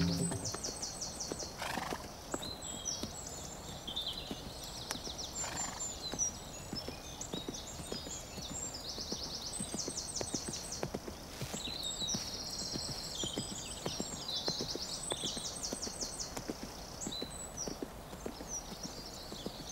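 Horses clip-clop steadily on hard ground throughout, with repeated whinnies and neighs rising over the hoofbeats at a moderate distance, in an English equestrian drama setting; no one speaks.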